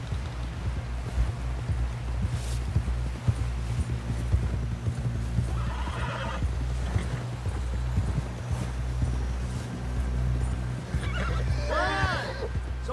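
Steady rhythmic hoofbeats of a galloping horse in the video game Red Dead Redemption 2, in a blizzard, with a constant rumbling background, punctuated by a horse's whinny near the end.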